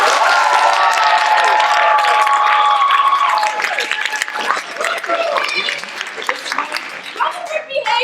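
A crowd claps and cheers loudly at first, the applause thinning into scattered claps and shouts with voices mixed in.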